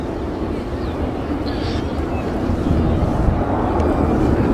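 An Avro Vulcan bomber flying its display at Abingdon Airshow 2011: a deep, broad roar that is steady at first and grows louder toward the end, with a voice talking over it.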